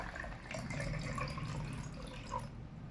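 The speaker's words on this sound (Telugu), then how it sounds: "దీని నిండా ఇలాగ నీళ్లు పోసేయండి" Water poured into a glass holding a rudraksha bead, giving a steady close trickle and splash that runs for a few seconds with a brief gurgle near the end.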